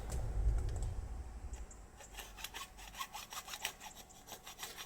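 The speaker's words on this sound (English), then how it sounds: "And the hacksaw." Hacksaw cutting metal in a recycling setting, a quick series of faint, rhythmic rasping strokes after a brief low thump, close but quiet with no talk.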